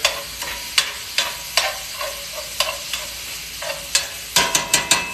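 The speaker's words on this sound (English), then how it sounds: "ground beef starts to sear up on that cast iron" Ground beef sears and sizzles in a cast iron pan, with repeated sharp scraping strokes of a spoon or spatula stirring it, a steady frying hiss beneath and no voices.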